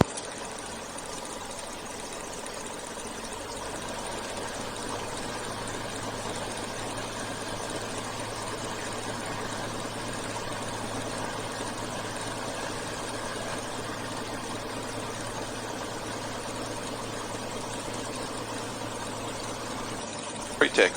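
A Bonanza light aircraft's piston engine idles on the ramp before taxi, a steady, continuous near drone with a low hum and broadband rattle that holds evenly throughout, radio voices faintly overlapping.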